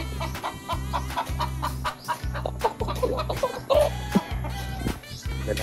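Chickens clucking on a weedy rural Philippine farm plot, repeated close clucks and chatter in quick bursts over a low rhythmic engine-like pulsing throb.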